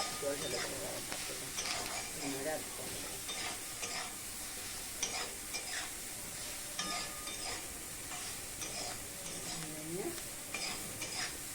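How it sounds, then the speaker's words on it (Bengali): Spices fry in oil, with salt added, as a spatula stirs and scrapes the pan. A soft continuous sizzle runs under repeated close scraping strokes. "এবারে খন্তির সাহায্যে আমি নেড়ে চেড়ে নেব আর যেহেতু মশলাটা দিলাম আর একটু তেল দিয়ে দিলাম মশলাটা ভাজার জন্যে"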